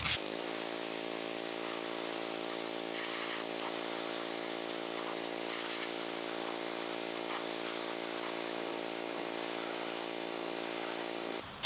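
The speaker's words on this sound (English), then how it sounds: "Let's go ahead and blast this front fork" A pressure washer blasts dirt and grime off the front fork and tire of an old barn-find Yamaha Enduro dirt bike, a loud, continuous motor whine and spray holding steady for over eleven seconds without talk.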